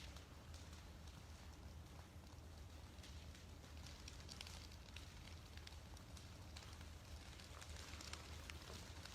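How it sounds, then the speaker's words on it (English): A prescribed burn in a nature reserve crackles and pops continuously at low level, with dense irregular snaps over a steady rushing background. "I'm sure you can hear that crackle now."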